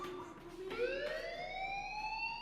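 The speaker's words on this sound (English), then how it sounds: "do you hear that fire alarm? That means you should be outside." Fire alarm in the video game Life is Strange, a faint rising electronic siren-like wail sweeping upward and holding a steady tone over about two seconds.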